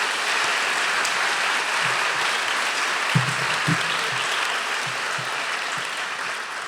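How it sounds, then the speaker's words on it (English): A university lecture audience applauds three evening speakers in a sustained, even wash of clapping that lasts several seconds, with a couple of low thumps partway through. "join me in giving another round of applause to thank all three of our speakers tonight."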